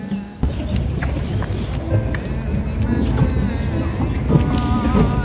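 A gondola glides along a Venice canal as boat and water rumble mixes with gusty wind buffeting the microphone, fairly loud and continuous after a quiet opening instant, with indistinct voices murmuring in the background.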